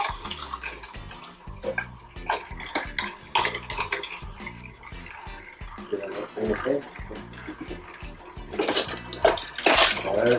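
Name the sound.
Kuvings slow juicers juicing whole carrots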